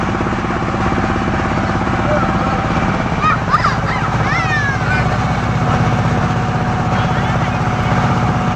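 A motor boat engine drones loud and steady during a crossing from the Maheshkhali jetty to Cox's Bazar, with a voice briefly audible over it.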